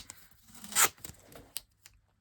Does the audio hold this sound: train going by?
no